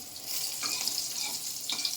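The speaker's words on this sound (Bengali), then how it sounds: "এই রান্না হচ্ছে পটল ভাজা" Slices of pointed gourd (potol) fry in a pan with a bright, even sizzle, plus two sharper crackling bursts as the pieces spit in the oil.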